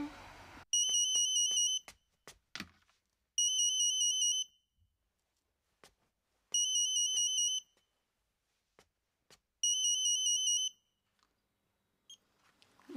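Telephone ringing in a Hong Kong TV drama scene, four electronic trilling bursts of about a second each at regular intervals, clear and fairly loud over near silence, with soft thuds and clicks between rings.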